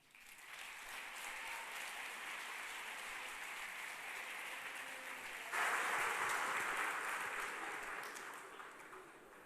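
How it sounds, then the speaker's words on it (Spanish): Audience applause at a Latin American ontological coaching congress in Buenos Aires, a steady dense clapping that swells louder near the middle before tapering off, with no talking over it. "Alejandro Marchesán, para el que pido un aplauso."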